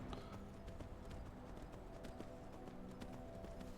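Horse hooves clip-clopping in Skyrim as a rider travels toward Winterhold, a steady run of soft, regular footfalls over a constant background bed, fairly quiet throughout.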